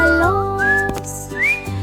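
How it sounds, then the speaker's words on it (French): A bright, close whistle carries a short melody in a children's song, with gliding notes rising and falling over a soft instrumental backing. "Nous sifflons des mélodies"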